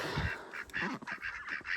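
Ducks on a farm quack and honk several times in short, uneven calls that sound fairly close but soft.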